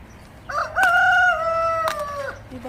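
A rooster in a backyard vegetable garden gives one loud, close crow, a drawn-out two-tone call lasting about a second and a half, with no speech.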